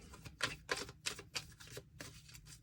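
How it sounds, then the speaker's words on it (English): Quick, crisp riffles of a tarot deck being shuffled, several bursts close up with short pauses between them. "One more shuffle."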